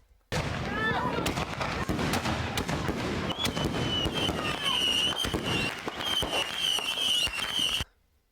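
Fireworks at a crowded Fourth of July gathering with many children, a person leaning over them as they go off: a dense run of loud bangs, crackles and whistles nearly nonstop for about seven seconds, with occasional voices underneath.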